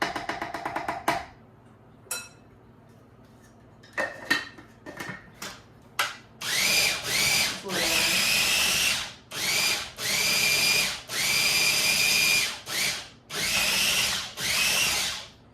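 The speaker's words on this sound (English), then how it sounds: "So just puree to the consistency that you are happy with." Countertop blender pureeing cooked beans into a thick paste for low carb chili, a series of loud whirring bursts pulsed on and off after a few clinks and knocks of setup.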